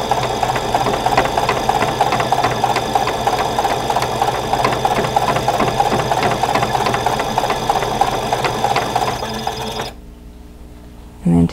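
A sewing machine stitches a fabric face mask with a pocket, a steady fast mechanical whir and rattle for about ten seconds before stopping abruptly, followed by a short clack.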